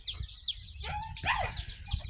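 High, thin whining notes from a dog come in short rising and falling cries, moderately near, with faint barnyard noise of ducks and chickens underneath.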